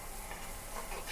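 A spoon stirs turmeric powder through lemon rice with fried onion and mustard seeds in a pan, a soft continuous scraping over faint sizzling, close and quiet.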